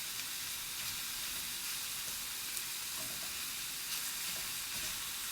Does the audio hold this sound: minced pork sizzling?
yes